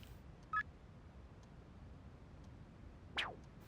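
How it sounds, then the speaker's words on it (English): A text message notification tone in the Persona 3 Reload video game, heard as two brief, faint electronic beeps about two and a half seconds apart against a quiet background. "Text message."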